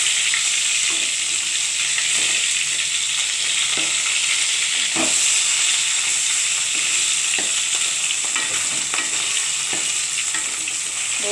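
Fish sizzles and fries steadily in a pan with a loud, continuous hiss and crackle. Faint stirring or turning sounds come through now and then, and no one speaks.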